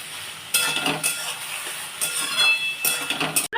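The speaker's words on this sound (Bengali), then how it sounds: "আমার আলুটা ভাজা হয়ে গেছে" Chopped potatoes fry in a pan for soybean posto while a utensil stirs them in several scraping bursts over a soft continuous sizzle, ending with a brief clatter.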